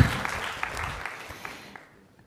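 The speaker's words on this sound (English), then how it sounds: "You could clap too" A few audience members clap briefly at a leadership talk, sparse and thin, with scattered hand claps fading out over about two seconds.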